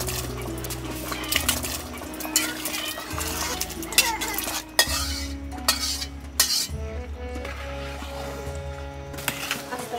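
Khichuri cooked with meat in a pot in a village home, with repeated clinks and scrapes of a spoon against the metal pot close by, alongside faint background bird and animal sounds.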